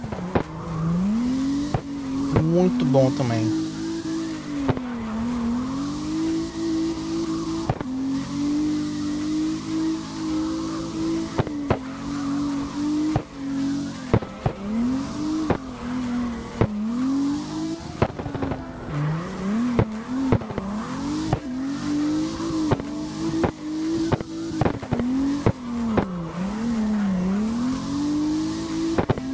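Yakuza car in the CarX drift racing game, its engine holding a high whining rev that dips and climbs again and again, with tire squeals and sharp clicks scattered throughout and no talking.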